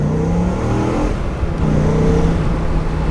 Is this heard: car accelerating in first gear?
yes